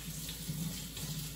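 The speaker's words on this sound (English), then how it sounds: "Yes, come wash your hands first." Running tap water for washing hands, a brief steady faint splash and hiss from a faucet into a sink, with no voices.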